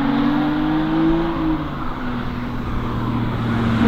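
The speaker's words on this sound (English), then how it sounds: "The induction noise is just insane." Jannarelly Design 1 sports car accelerating hard, its engine induction note rising through the revs, then dropping at a gear change and climbing again, loud and close from inside the cabin.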